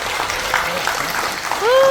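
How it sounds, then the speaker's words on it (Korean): An audience at an AI policy forum applauds steadily in a hall, a continuous wash of clapping under a voice talking over it. "다시 한번 큰 박수 부탁드립니다"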